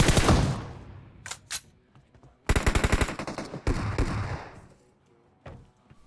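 Shotgun blasts and M4 rifle fire in the mobile battle-royale game Battlegrounds Mobile India, heard as a loud opening burst, then a couple of isolated shots and longer rapid volleys close by, separated by short quiet gaps.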